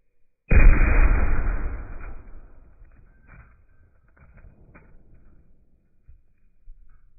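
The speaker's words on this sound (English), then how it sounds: "I just took the last shot with the 130 spears" A single loud 7mm Valkyrie rifle shot firing a 130-grain Speer bullet into ballistic gel, a sharp blast that rings out and decays over about two seconds, followed by faint clicks and handling noises.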